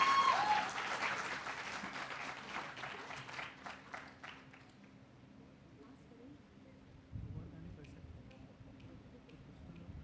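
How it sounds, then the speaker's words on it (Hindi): Audience applause at a live musical baithak session, a burst of clapping from a crowd that is loud at first and fades out over about five seconds, followed by quieter room noise and someone talking. "फिर तो और तालियां मिलनी चाहिए हमें यार"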